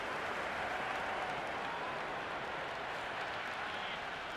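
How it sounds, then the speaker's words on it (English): A stadium crowd applauds in a cricket video game, a dense, even wash of clapping and cheering that holds steady throughout at moderate level. "The crowd is electric right now."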